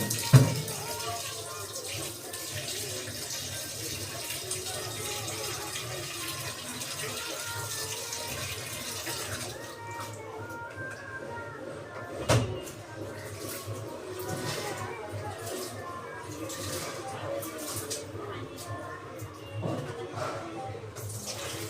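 Tap water runs steadily into a sink while rice and other food are washed together, a continuous splashing flow with brief clatters, while a person talks over it.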